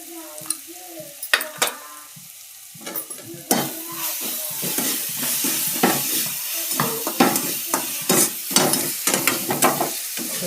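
Chilli, garlic and ginger paste sautéing with turmeric for vada pav, a steady sizzle broken by repeated scraping and stirring strokes of a spoon in the pan, close and rhythmic.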